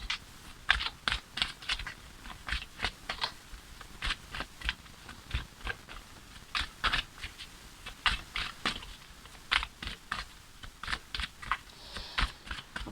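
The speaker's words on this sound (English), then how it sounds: "as I'm shuffling the cards" Tarot cards being shuffled by hand make a rapid series of crisp, dry clicks and riffles in close quarters, bursting in short clusters with brief gaps, steady and fairly quiet, with no voices.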